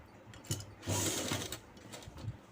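A sewing machine stitches a double-folded hem on night pants, its needle running in a steady, close mechanical chatter that swells and eases in short bursts, with small handling noises.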